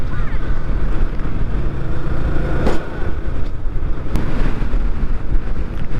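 Strong wind buffets the microphone at a scenic riverside spot during light drizzle, a continuous loud rumbling roar with no talking.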